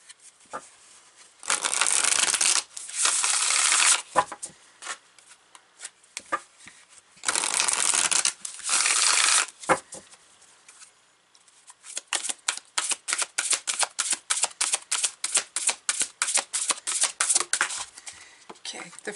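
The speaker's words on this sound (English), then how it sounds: "I'm going to pull some cards here, Pisces." Sacred Destiny and Sacred Traveler oracle card decks being shuffled close by, with long riffling bursts followed by a quick run of crisp, rhythmic card snaps.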